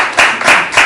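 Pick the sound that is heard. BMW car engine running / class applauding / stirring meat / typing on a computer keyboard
class applauding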